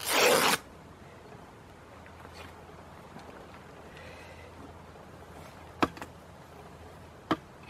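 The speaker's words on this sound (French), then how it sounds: "Je vais préparer un joint avec un bout de vieux drap que je découpe." Scissors cut through a piece of old bedsheet to make a seal for a homemade solar oven: a short, loud, rasping burst of fabric cutting, then near silence broken by two small sharp clicks.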